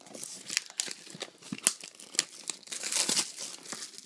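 Close, sharp crinkling and tearing of foil wrappers as 2006 Topps Allen & Ginter blaster card packs are ripped open, in quick irregular bursts of crackle and rustle with no talking.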